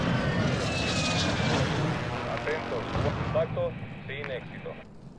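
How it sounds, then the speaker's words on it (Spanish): Precision airstrike aircraft in the video game Warzone 2, a loud rushing jet roar with booming impacts that fades toward the end, with game radio chatter over it. "Así que me compro un airstrike y lo lanzo."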